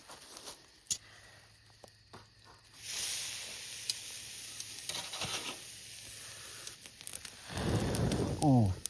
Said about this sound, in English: I think I'm going to get my griddle heating up and then throw them on.